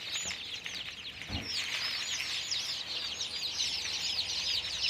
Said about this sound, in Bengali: এগুলো অরিজিনাল দেশি মুরগির বাচ্চা